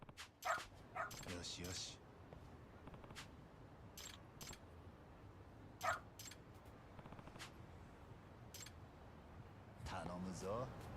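A dog in a video game's dog-walking mini game gives several short barks and yips, spread out over a quiet background, with a person talking between them.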